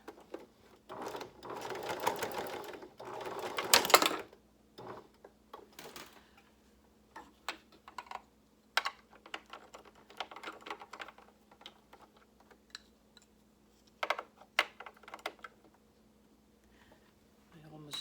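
A sewing machine stitches a face mask in a loud, rapid run at the start, then slows to scattered ticks, clicks and short bursts of stitching, with a voice talking between them.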